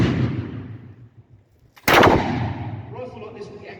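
Two loud, close black-powder rifle shots at a historical drill-and-shoot display at a fort. Each blast has a long rumbling decay, and the second, sharper report follows a short gap.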